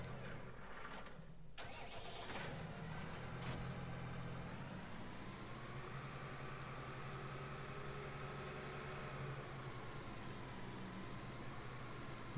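A heavy diesel tractor engine in Farming Simulator 19 cranks and catches, then settles into a steady, droning idle that continues to the end, with a brief spoken word early on.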